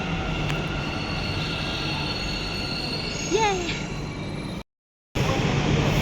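A metro train departs, rumbling steadily with a rising wheel squeal partway through, then a brief dropout before the rolling noise resumes.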